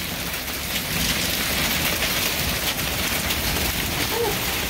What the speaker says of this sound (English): The hail. Oh, it is getting bigger.